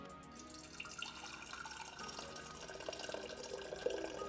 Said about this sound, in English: So I am going to pour the simple syrup into a mason jar,